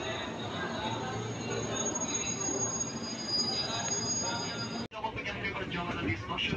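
A commuter train at Manggarai transit station rumbles steadily on the rails with loud wheel squeal and a constant hum, then a sharp cut leaves busier, clattering rail noise near the end.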